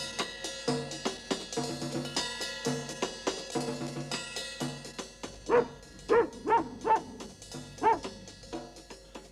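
Several sharp dog barks over music, spaced irregularly in the second half, loud and close.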